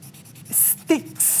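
Charcoal scrapes across paper in short strokes while a portrait is being drawn, a few quick, close rasping bursts with a brief low voice sound between them.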